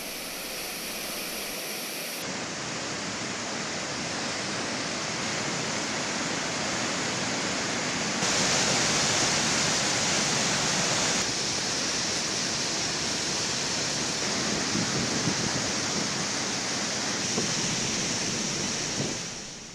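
Manimuthar waterfall sends down a heavy, continuous roar of rushing water, loud and broadband throughout, with its texture shifting slightly as the sound rises partway through, and no voices over it.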